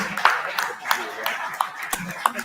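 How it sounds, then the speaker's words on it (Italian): An audience in an Italian art venue claps for a named honoree, the handclaps ragged and moderately loud, heard under ongoing talk. "un applauso particolare lo chiedo per Giulia"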